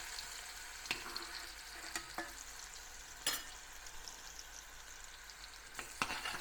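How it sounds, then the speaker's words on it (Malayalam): Chopped onions sauté in hot oil for a Kerala-style ginger curry, a soft, steady sizzle broken by a few sharp clicks of stirring, close and quiet with no talk. "ഈ എണ്ണയിലേക്ക് തന്നെ ഞാൻ അടുത്തത് നമുക്ക് അരിഞ്ഞു വെച്ചിരിക്കുന്ന ഉള്ളി അല്ലെങ്കിൽ സവോള ചേർക്കുന്നു"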